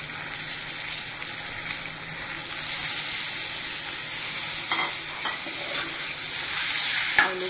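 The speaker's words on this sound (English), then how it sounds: "I mix it well." Mutton pieces frying with mashed tomatoes in a curry pan, stirred steadily: a continuous loud sizzle with scraping spoon strokes, growing slightly louder toward the end, no voices.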